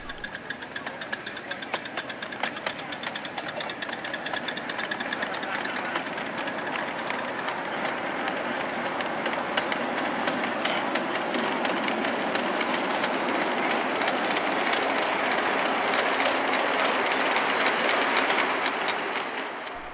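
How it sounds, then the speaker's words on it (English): A 5-inch gauge model LNER Y4 steam locomotive pulls away with a mixed freight train on a miniature railway, giving a steady chuffing and clattering rumble with rapid rhythmic beats that grows slightly louder across a long continuous stretch. "And here we see an LNER Y4, modelled in 5-inch gauge,"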